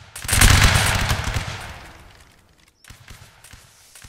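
A line of infantry lets off a musket volley in a Napoleonic-era line battle game, a loud burst of overlapping shots that rolls away into a fading echo, followed by a few scattered distant pops.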